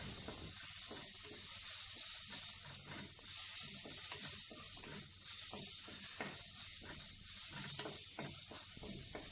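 Ginger garlic paste fries in hot coconut oil in a pan for Kerala koonthal (squid) masala, giving a steady soft sizzle and hiss with small crackles that runs the whole time at low, even volume and no voices.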